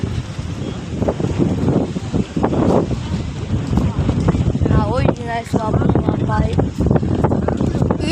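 Gusty wind buffets the microphone aboard a boat on open water, with water splashing nearby; a steady rough roar persists while people talk over it.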